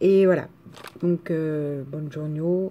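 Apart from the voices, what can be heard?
None of the usual background noises is heard.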